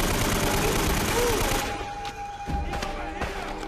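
Loud, dense AK rifle fire from the video game Uncharted: Drake's Fortune, a continuous roar of rapid shots up close that gives way to scattered bursts and thuds.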